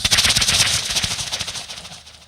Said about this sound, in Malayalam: വെടിക്കെട്ടിന്റെ ശബ്ദമുണ്ട്